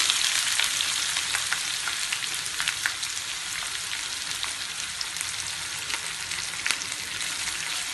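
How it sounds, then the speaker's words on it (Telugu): Steady crackling sizzle of onions and green chillies frying in hot oil, with scattered pops and spits throughout, close and fairly loud, no voices. "ఉల్లిపాయ పచ్చిమిరపకాయ వేసేసుకుంటున్నామండి"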